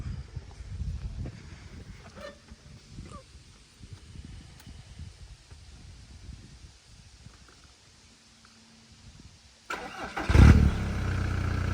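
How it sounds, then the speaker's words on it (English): After a long stretch of quiet rustling, a warm turbo diesel engine in a Seat Ibiza suddenly cranks and fires up with a loud burst, then settles into a steady, close rumble. "here's a startup"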